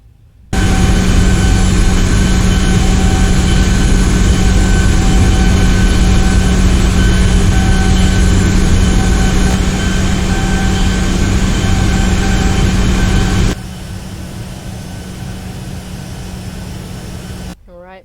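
A Boeing 737-800 taxiing in X-Plane 11 holds a loud, constant jet-engine drone for several seconds. It then drops abruptly to a lower hum as engine number two shuts down, leaving one engine idling.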